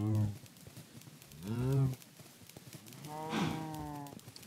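Cows moo in Minecraft, three drawn-out low moos with rising and falling pitch, spaced over a few seconds and close, with a faint hiss of background noise between them.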